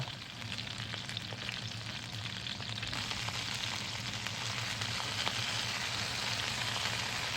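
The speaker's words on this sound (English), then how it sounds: "ឥឡូវខ្ញុំដាក់ខ្លាញ់ចូលទៅហើយនឹងខ្ញុំដាក់បកង ខ្ញុំចៀនវាទៅ" Lobster frying in hot oil in a pan, a steady, close sizzle with crackling hiss running unbroken throughout, no voices.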